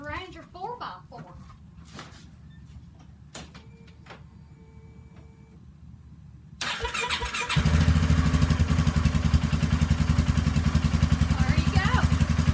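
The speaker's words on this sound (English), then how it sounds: "Cold start of this Polaris Ranger 4x4." A Polaris Ranger 4x4 utility vehicle is cold-started outdoors: a quiet stretch gives way to a burst of cranking, then the engine catches and settles into a loud, steady, rumbling idle close by.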